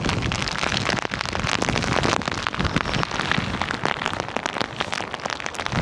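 Heavy rain pours down continuously on a tent, a dense, loud roar of drops pattering on surfaces with no voices.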